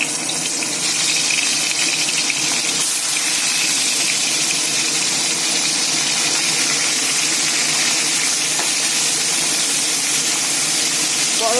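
Koi fish fry in hot oil with dried red chilli, making a loud, continuous, close-up hiss of sizzling that holds steady from start to finish.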